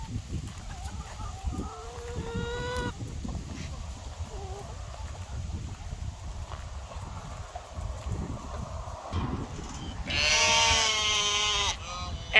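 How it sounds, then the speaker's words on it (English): Sheep bleating and chickens clucking around a farmyard, with several overlapping calls and a loud, sustained bleat near the end over steady background noise. "And a lot of sheep apparently."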